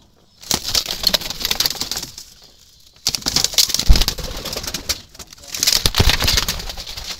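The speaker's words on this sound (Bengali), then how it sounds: "এটা হলো খয়েরি জালালি বোনা কবুতরের বাচ্চা" Fluttering and soft calls of a brown Jalali wild pigeon chick among other pigeons in a basket, coming in three short bursts separated by near silence.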